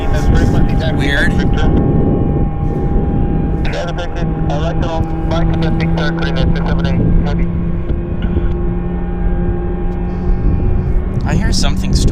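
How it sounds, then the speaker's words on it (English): Jet airliner engines spool up at Vancouver airport in a steady, loud, droning roar with rising tones, heard from a distance under almost constant talk and crackling radio chatter. "I hear something starting engines,"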